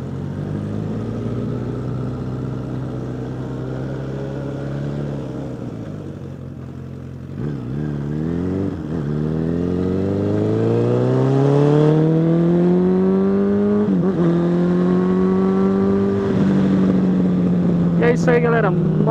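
A motorcycle ride on the Fernão Dias highway, with a loud, close engine droning steadily and rising in pitch as it accelerates through the gears, with wind roar throughout.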